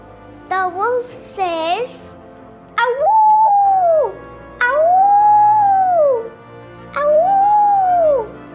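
A voice imitates a wolf howling in a children's animal-sounds lesson, with three long, rising-and-falling awoo calls sung loud and close after a short spoken bit.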